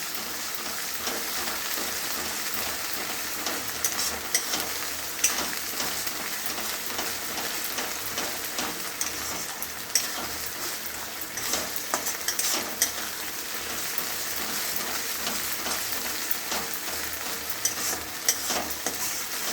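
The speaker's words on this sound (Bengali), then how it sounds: "অনবরত নেড়ে যেতে হবে। এই তেল একটুও থাকবে না।" Food frying in oil in a pan while being stirred constantly, a steady dense sizzle with scattered scraping and clinking of the spoon, close and continuous.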